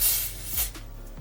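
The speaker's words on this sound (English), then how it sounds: "Oops, I'm spraying it on the wig." Hair spray from a dirty nozzle is sprayed onto a wig in a short, close, loud hiss that fades after about half a second, followed by quieter rustling.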